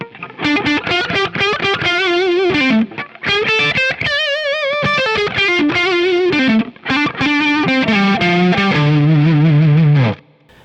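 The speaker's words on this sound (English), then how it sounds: "So the neck pickup with everything wide open sounds like this." Gibson Les Paul on the neck pickup with volume and tone wide open, driven through Marshall-style distortion, playing a loud, continuous run of clear, sustained notes with singing harmonics and some bends, alone without talk.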